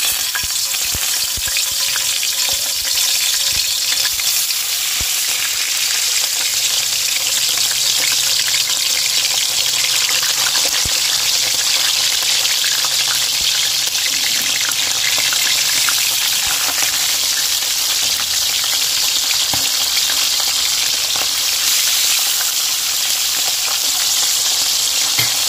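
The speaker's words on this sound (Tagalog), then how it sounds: "Siyempre umpisa natin yan, magpiprito po tayo." Fish fries in hot oil in a pan, giving a loud, continuous sizzle and crackle that stays steady throughout, with no talking.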